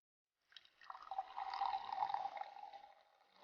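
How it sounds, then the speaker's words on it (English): A ginger fizz cocktail is double strained into a highball or tumbler, giving a steady, close trickle of liquid that starts after a brief silence, swells, then thins toward the end with no talking. "Take a highball or a tumbler and double strain your drink."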